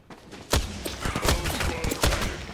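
Rapid gunfire in the Apex Legends video game on the Halloween Kings Canyon map, several loud close bursts and single shots cracking out in uneven rhythm over a busy background.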